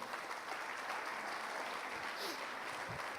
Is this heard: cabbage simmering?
no